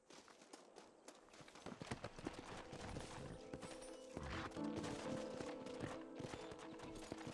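Horses galloping in the Western video game Red Dead Redemption, rhythmic hoof clip-clop that starts after a quiet moment and builds into a steady run with game music and mechanical rattles underneath, fairly faint overall.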